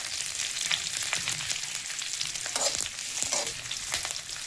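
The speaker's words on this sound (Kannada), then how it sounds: "1 ಹಿಡಿದು ಬೆಳ್ಳುಳ್ಳಿ ಹಾಕ್ಕೊಂಡು ಲೈಟಾಗಿ ಫ್ರೈ ಮಾಡೋದು" Garlic frying in oil over a low flame gives a steady, close crackling sizzle with scattered small pops, continuous throughout and with no voices.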